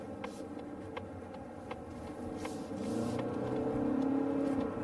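A Mazda CX-50 in power mode accelerates in second gear, its engine a low, fairly quiet hum that swells gradually toward the end under faint cabin noise and a few light ticks, with no talk.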